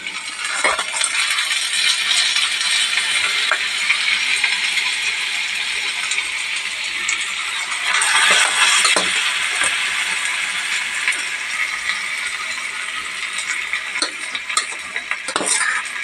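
Boiled ingredients hit a hot pan and fry with a loud, steady sizzle close by, broken by occasional clinks of a utensil against the pan, with no talking.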